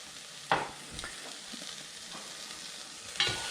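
Yellow pepper rice being stirred in a pan, a soft scraping and sizzling with two sharper utensil scrapes against the pan, close and fairly quiet with no talking.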